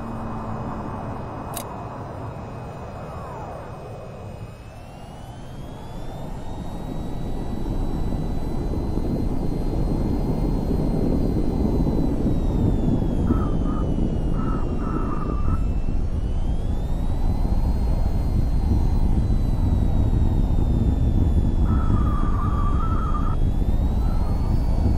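Aircraft engine in the VTOL VR flight game during taxi to the runway, a steady low roar with high whining tones that swells after the first few seconds and holds loud and constant, with faint brief beeps.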